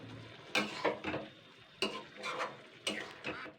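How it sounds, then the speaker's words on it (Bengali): A spoon stirs fish curry with leafy greens in a simmering pan, giving several distinct scraping strokes in an uneven rhythm over a soft bubbling sizzle. "একটু নাড়াচাড়া করে নেবো, 2-3 মিনিট ফুটিয়ে নেবো"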